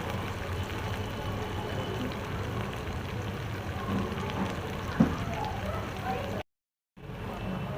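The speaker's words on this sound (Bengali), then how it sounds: "দিয়ে এটাকে ভালো করে একটু ব্রাউন কালার হবার পর্যন্ত এটা একটু ভাজতে হবে" A handful of peanuts frying in oil until brown gives a steady, rain-like sizzle and crackle close by, with a faint voice underneath and a brief cut to silence near the end.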